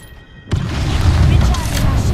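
Sudden heavy burst of enemy gunfire in a squad-based shooter video game, a loud booming onset followed by sustained rumbling shots that continue to the end.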